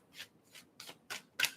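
A deck of tarot-style cards gets five quick riffle shuffles, each a short papery burst that grows slightly louder toward the end.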